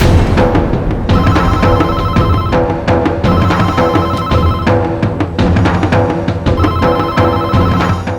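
A telephone rings loudly and continuously in repeated electronic trill bursts, alone with no voices.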